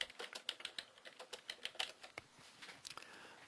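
Computer keyboard typing a chat message, a quick irregular burst of crisp key clicks, close but soft, with no talk.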